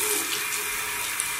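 Warm water running from a tap at a steady, soft rush, heard close with no voices over it.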